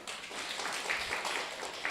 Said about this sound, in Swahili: Pigieni management makofi